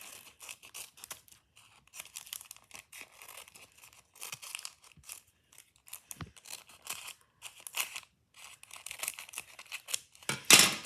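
Scissors snip and crinkle through paper as they cut around a homemade sticker, with irregular close crisp bursts and short pauses, ending in a louder rustle.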